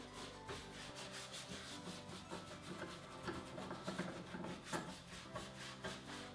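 Dark soft wax worked by brush into textured furniture details over clear wax, making a continuous close, soft scrubbing and rubbing with a faint, steady rhythm and no talking.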